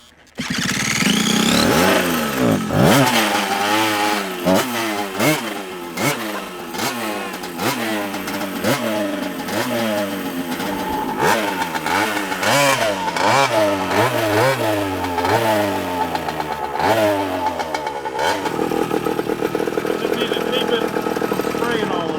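A motorcycle built from mostly used parts with a spun aluminum fuel tank starts and rides off, its engine revving up and down repeatedly in loud, close gear-shifting surges that fade near the end.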